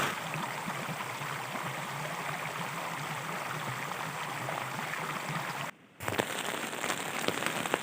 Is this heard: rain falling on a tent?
yes